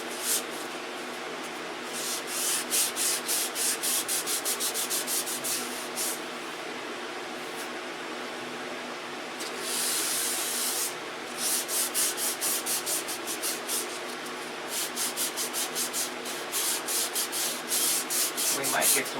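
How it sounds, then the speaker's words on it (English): Hand sanding with 320 grit sandpaper on a surface being prepped for primer: repeated back-and-forth rubbing strokes in bursts with short pauses, close and steady, no talking. "So this is 320 I'm sanding with here."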